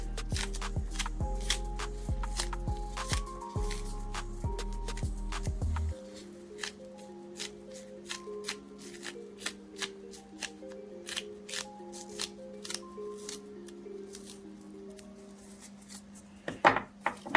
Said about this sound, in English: You can use a board to cut your scallion, but I just cutting it in my hand.